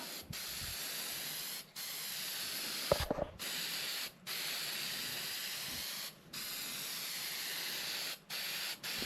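A spray gun spraying gel coat hisses in long continuous bursts separated by short pauses, close and steady, with a brief clatter partway through.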